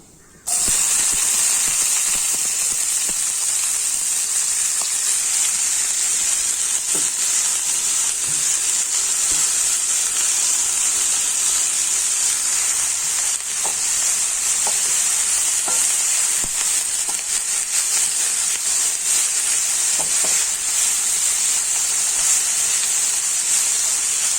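Spinach (palak) goes into a hot pan and sizzles loudly and steadily, a bright continuous hiss with occasional soft scraping as it is stirred.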